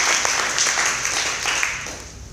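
An audience at a startup demo day in Singapore applauds as the next team takes the stage, a steady wash of clapping that fills the room without pause for a couple of seconds.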